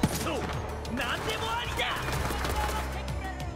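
Rapid gunfire in the looter-shooter Borderlands 3, a dense run of close, loud shots with mechanical clatter, with a voice speaking over the shooting.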